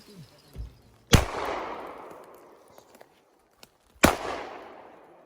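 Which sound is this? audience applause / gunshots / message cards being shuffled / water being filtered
gunshots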